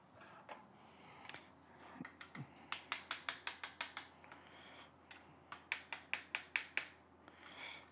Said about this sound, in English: I'm just gonna take the screw off that holds the axle